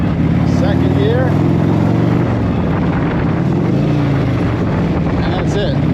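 A 1984 Harley motorcycle engine runs loud and close, its rumbling note rising and falling as it shifts from first into second gear, with a voice talking over it.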